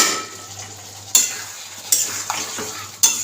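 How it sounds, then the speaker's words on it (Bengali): Pointed gourd and potato curry with ginger, cumin, onion, salt, turmeric and sugar frying in a pan, with a steady sizzle broken by several sharp scrapes and clinks of a spatula stirring. "আদা, জিরে, পেঁয়াজ, নুন, হলুদ, চিনি, জিরে গুঁড়ো, ধনে গুঁড়ো সব দিয়ে বসিয়ে দিলাম পটল আলু"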